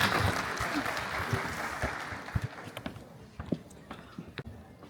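An audience at an earthquake risk reduction meeting applauds, a dense burst of clapping that thins out into a few scattered claps.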